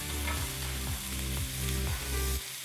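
Vegetables sizzle and hiss hard in a hot pan while being stir-fried for a sweet soy chicken dish, a loud, continuous frying sound with the rhythmic scrape and toss of stirring.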